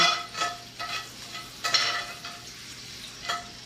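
Bacon fat sizzles in a pan with a soft continuous crackle, broken by several louder scraping bursts from stirring, close by with no talking.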